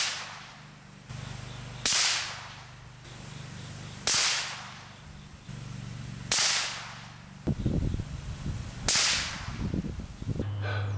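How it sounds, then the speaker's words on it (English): Five rifle shots fired through an OSS Helix QD suppressor, each a sharp, loud crack followed by a short decay, evenly spaced about two seconds apart, with faint handling noise between them. "So here's a 5-round group suppressed."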